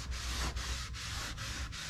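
Wooden farmhouse-style shutter being polished by hand, a steady rhythmic rubbing with about five even back-and-forth strokes, close and alone with no talking.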